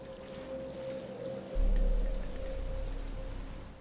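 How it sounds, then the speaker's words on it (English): Rain falling in Batman: Return to Arkham Asylum, a steady broadband hiss of rainfall over a low game ambience hum, swelling with a deeper rumble partway through, with no voices. "But it's starting to rain."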